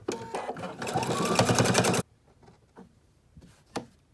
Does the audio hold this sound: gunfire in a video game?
no